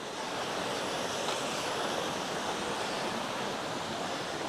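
A small forest waterfall on a cold walk, about 8 degrees, gives a steady, even rush of falling water that fills the whole clip with no voices over it.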